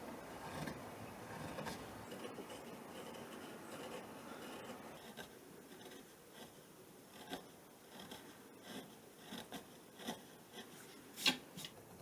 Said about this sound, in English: I'm going to get this kind of curved flat chisel and just take away all those kind of flat areas